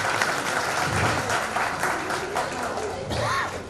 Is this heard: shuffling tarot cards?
no